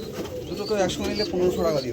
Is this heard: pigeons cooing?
yes